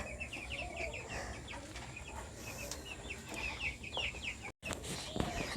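Several broiler chickens cluck and chatter nearby in a coop in a rapid, uneven stream, with a brief gap and a few louder squawks toward the end.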